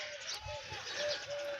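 Pigeons in a rooftop flying setup coo softly in the background under a steady wash of outdoor noise, with faint chirps mixed in.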